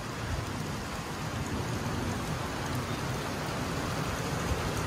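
Heavy rain falling on a dry rural area near cornfields, a dense, steady, loud hiss without pause, with no talking.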